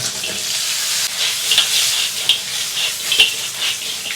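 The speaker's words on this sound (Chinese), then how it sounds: "搅拌一下，炒出香味儿，倒入鹌鹑" Quail stir-frying in a wok with chili powder, cumin, sesame seeds and salt gives a steady, close sizzle with bright crackling and a few sharp scrapes of the spatula, with no talk.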